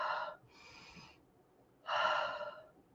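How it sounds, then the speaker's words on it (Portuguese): Breaths drawn in through the nose during a calm breathing exercise: two distinct airy inhalations with a short pause between, close and fairly loud, no talking. "Respira pelo nariz."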